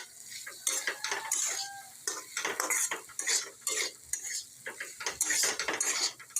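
Flowers in a pan are stirred and fried with chilli powder. A metal utensil scrapes and clinks in quick, uneven strokes over a soft sizzle, close and with no talk.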